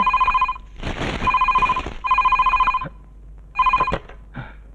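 A telephone bell rings in repeated bursts, a steady electronic trill with short pauses between rings, loud and close, with no talking.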